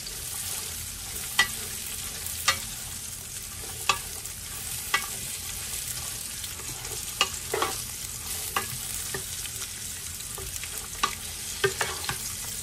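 Onions sizzle and fry in a hot pan for Filipino chopsuey, with a steady close hiss broken by regular clacks of a stirring utensil against the pan.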